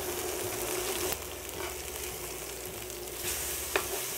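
Pan-seared tuna steaks sizzle steadily and loudly in a hot pan, with a couple of brief clatters and bursts as the steaks are flipped, and no talking.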